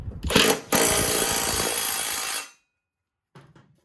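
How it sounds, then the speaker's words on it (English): An impact wrench rattles loudly in one burst lasting about two seconds as it tightens the bolt on a mower blade, then cuts off to silence with a faint clatter afterward. "And then I just use an impact."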